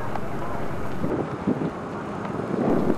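Steady wind rushing and buffeting across the microphone on a ferry crossing from Oban to the Isle of Mull, with a low rumbling drone beneath and a faint voice surfacing now and then.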